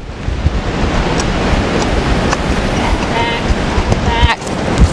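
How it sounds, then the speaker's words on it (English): Strong wind blows outdoors during harness training of a horse at a pole, roaring steadily as loud broadband buffeting against the microphone, with faint clinks near the end. "The wind is picking up very strong."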